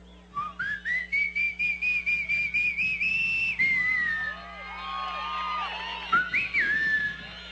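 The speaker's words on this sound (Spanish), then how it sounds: "Otra forma es como yo silbo." A man whistles a series of short rising, pulsing notes at a political rally in Nueva Esparta, then a longer sliding whistle, heard loud and close over a murmuring outdoor crowd with scattered cheers.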